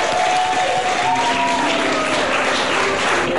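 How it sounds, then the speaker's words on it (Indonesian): Studio audience applause on an Indonesian TV talk show with Ari Santosa, a steady, fairly loud burst of clapping that holds evenly for a few seconds. "Boleh tepuk tangan lagi."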